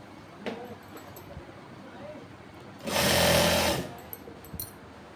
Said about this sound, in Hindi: वन साइड ऐसे सिल के लेंगे।